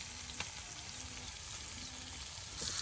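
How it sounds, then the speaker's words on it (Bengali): Small puti fish frying in oil in a village kitchen, a steady close crackling sizzle with faint scraping as they are turned, no talking. "মাছগুলো এখন কিন্তু তেলের সাথে সুন্দর করে উলট পালট করে দেওয়া হচ্ছে।"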